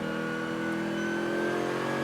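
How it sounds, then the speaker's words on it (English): A TCR touring race car accelerates hard on a soaked, spray-filled track, its engine note rising steadily and loud, heard close from onboard with no voices. "TCR car on the power."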